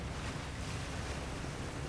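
Water surges and churns in a steady, loud roar as a creature dives below the surface in Resident Evil 4, a continuous wash of splashing noise with no voices.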